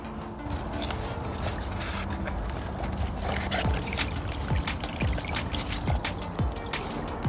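Water trickles steadily from a budget 8W solar-powered garden fountain pump floating in a small basin outdoors, a continuous close splashing and dribbling with faint scattered drips and background noise throughout.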